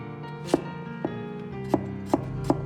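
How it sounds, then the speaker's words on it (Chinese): A knife chops white radish into large chunks on a board, with five distinct, fairly close thuds spaced about half a second apart over a low steady background. "白萝卜先斜刀切成大块"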